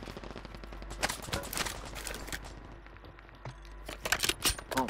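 Automatic machine gun fire in Call of Duty, with bursts of rapid shots in uneven clusters over ongoing game noise, heavier near the start and end.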